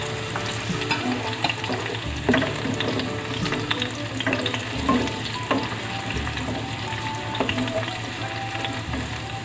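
Onion and garlic sautéing in a pan for a beef loaf and bitter gourd stir-fry: a steady close sizzle with scattered clinks of stirring over a low background hum.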